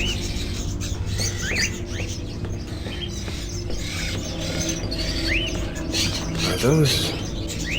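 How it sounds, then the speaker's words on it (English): Crows kept in cages in the video game Indigo Prophecy, giving short, scattered chirps and caws against a steady game ambience, with a brief louder call near the end. "Are those crows in the cages?"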